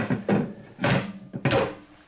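A pantry drawer in a 2021 Forest River Cedar Creek Hathaway 38RTH RV slides open on stainless steel ball-bearing glides, making three or four quick rolling, thudding strokes that sound close and fairly loud.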